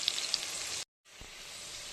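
Potatoes sizzle steadily in a frying pan with turmeric and salt, a close, even hiss that breaks off into a short silence before resuming more quietly.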